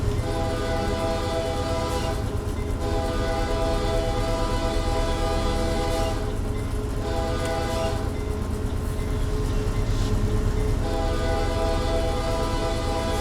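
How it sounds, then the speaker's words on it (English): A freight locomotive horn in Train Simulator sounds long sustained blasts at a crossing, repeated several times over a steady rumbling train, with no talking. "Here's a crossing. We'll go ahead and honk."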